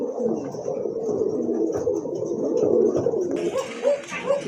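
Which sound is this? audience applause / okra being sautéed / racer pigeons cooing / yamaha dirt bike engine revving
racer pigeons cooing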